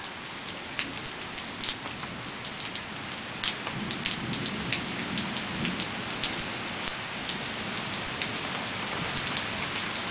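Heavy rain from a fast-moving storm pours steadily and densely, with close drops pattering on a surface throughout and a faint low rumble of thunder underneath.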